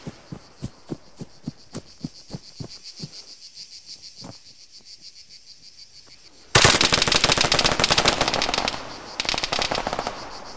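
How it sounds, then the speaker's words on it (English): Machine gun fire in the shooter game Argo: a steady train of sharp, evenly spaced shots that thins out, then a much louder, denser burst of rapid automatic fire erupts and continues. "Where am I getting shot from?"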